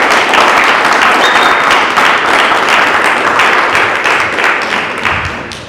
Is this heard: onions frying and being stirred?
no